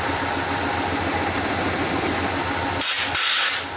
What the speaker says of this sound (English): this is a 1/2 inch carbide end mill, 700 RPM